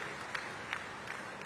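Audience applause at a public event in Banaskantha launching a 50,000 recharge wells project, heard as a faint, distant, steady wash of clapping with a few slightly louder claps standing out.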